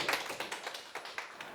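A small audience at a hospice ward concert claps, producing sparse, quiet, uneven handclaps that sound like a few people applauding rather than a full crowd.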